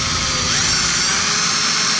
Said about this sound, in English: Q-tip on the end of your drill